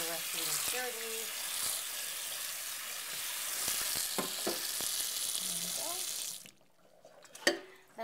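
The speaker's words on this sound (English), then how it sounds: "I'm just going to give them a quick rinse" Black beans get a quick rinse under running water, a steady broadband splash of tap water over the beans with scattered clinks, running for about six seconds before cutting off to near quiet with a faint knock near the end.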